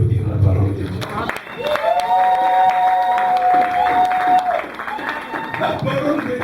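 Church congregation clapping in praise during a French-language worship service, a steady rush of applause mixed with crowd noise and sustained keyboard-like tones, with a voice speaking over it.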